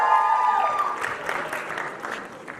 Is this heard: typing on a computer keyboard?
no